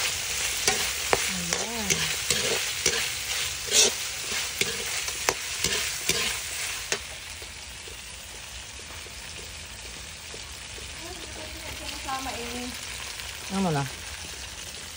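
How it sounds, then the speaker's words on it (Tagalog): Chopsuey being stir-fried in a pan, with repeated scraping and stirring strokes over a steady sizzle, loud at first and then calmer, while a person speaks briefly. "Mix lang natin."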